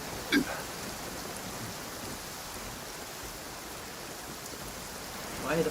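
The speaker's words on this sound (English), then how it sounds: "Why the freaking rain is happening right now?" Rain in the video game Genshin Impact, a faint, even hiss of falling drops holding steady throughout, with brief sharp sounds at the start and end.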